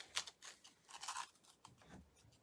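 Jute twine snipped with scissors at a craft table, a few short crisp crunching cuts close by with brief rustling between them.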